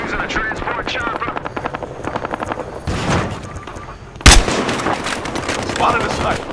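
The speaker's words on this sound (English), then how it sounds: "Suspects are using a transport chopper." A transport helicopter in Battlefield Hardline thrums with steady rotor chop, mixed with bursts of gunfire and a sharp loud shot midway, while a voice speaks over the action.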